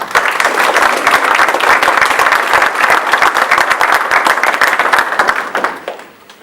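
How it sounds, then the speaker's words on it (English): A live crowd at an esports panel event in Frisco gives the panel a dense, loud round of applause. The clapping stays full for about five seconds, then tapers and fades to quiet. "let's have a round of applause for our panel"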